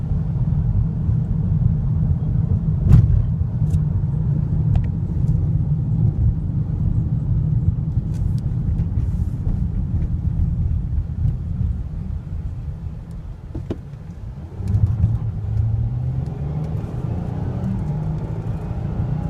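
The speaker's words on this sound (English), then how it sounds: "the motor's pretty quiet" A 2015 Dodge Journey SXT's engine runs steadily while driving, a low, continuous rumble close by that stays level throughout, with a slight swell near the end.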